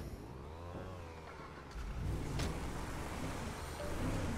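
Car engine in Grand Theft Auto V, driving off-road, hums at mid pitch, then swells louder with rough rumbling and crunching over uneven ground, steady and close.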